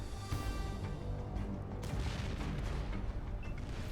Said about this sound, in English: I shot him from my orbital laser cannon view